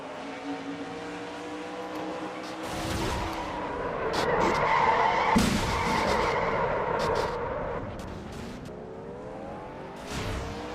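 Stock cars in a racing video game skid and crash in a multi-car wreck, with sustained tire squeal, engine whine and scraping impacts building to a loud peak before easing off.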